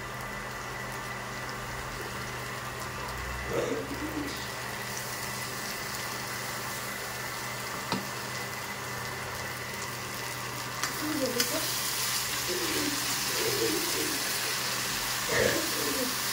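Spice paste for a mutton dish cooking in a pan, a low steady bubbling hiss running throughout, with brief faint voices at moments.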